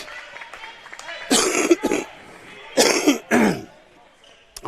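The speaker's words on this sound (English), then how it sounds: "see if I can get rid of this cough." A sportscaster calling a live girls' high school basketball game, Corning versus Manila, coughs and clears his throat in two loud, close bursts around seconds 1.3 and 3, over faint gym crowd noise.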